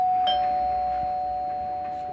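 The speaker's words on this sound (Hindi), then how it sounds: "घर की घंटी बजाई" A house doorbell rings with a single electronic chime tone that holds steady and slowly decays, loud and close, with no voices.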